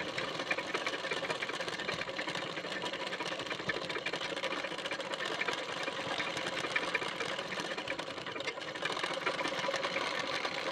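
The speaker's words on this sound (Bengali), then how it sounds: "নিয়ে কোমর পট্টির কানা বরাবর করে একটি চাপ সেলাই দিয়ে নেবেন।" A sewing machine runs steadily, laying a line of stitching along a garment's waistband edge, with a continuous fast mechanical whir and no pauses or talk throughout.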